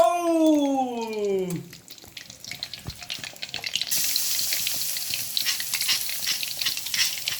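Shrimp stir-fried with holy basil, garlic and dried chilies in a pan, sizzling loudly with fast scraping stirs. A voice trails off at the start, and the hiss grows brighter and stronger partway through.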